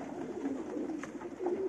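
Crossbred pigeons coo softly at close range, a low murmuring call repeated a few times over a quiet background.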